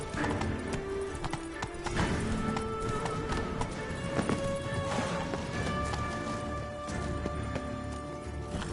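A horse gallops in The Witcher 3: Blood and Wine, with rapid rhythmic hoofbeats and an occasional whinny over a dense game soundscape of music and ambience, continuous and moderately loud throughout.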